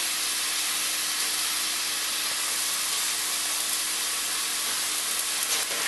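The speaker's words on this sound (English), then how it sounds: "It's got a nice sizzle there." Chapli kebab meat sizzling in a frying pan, a constant bright hiss of hot oil that carries on steadily and alone without any talk.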